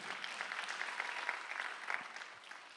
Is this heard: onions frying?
no